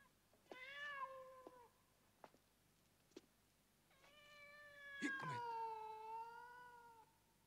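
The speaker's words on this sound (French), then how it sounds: "Viens, mon chat, viens, mon chat." A cat meows twice, a short cry and then a longer drawn-out wail, fairly faint and close, with a few small taps and clicks between, no talking.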